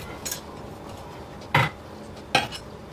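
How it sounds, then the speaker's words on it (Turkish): Boiled vegetables are stirred in a round glass baking dish, producing a few sharp, separate clinks of a utensil against the glass over quiet background. "sebzelerimi yuvarlak bir borcama alarak karıştırıyorum."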